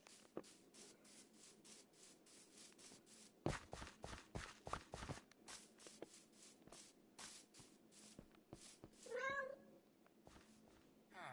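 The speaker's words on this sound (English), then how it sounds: "Oh, kitty cat." A Minecraft cat gives a short, rising meow near the end, following a long run of blocky in-game footsteps and shuffling sounds, with no talking.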